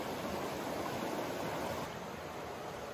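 River water rushes in a steady broadband wash at a quiet spot in the woods, close and continuous, easing slightly toward the end.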